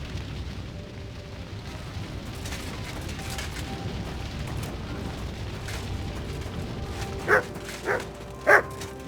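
In Kingdom Come: Deliverance II, a dog barks three times in quick succession near the end, clear and fairly close over quiet in-game ambience.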